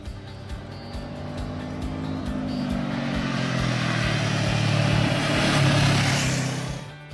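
A Honda CB500F motorcycle with a 471 cc parallel-twin engine is ridden past, giving a loud, steady engine drone that swells and climbs in pitch before easing off near the end, with no talk.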